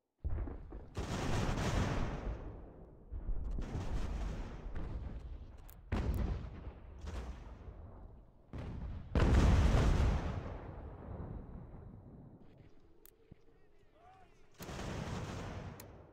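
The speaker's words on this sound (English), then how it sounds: "Beautiful, beautiful canister shots." Artillery canister shots boom out in the strategy game Ultimate General: American Revolution during a fort siege: several heavy, rolling blasts in bursts with decaying rumble between them, loud and close, with quieter battle noise in the gaps.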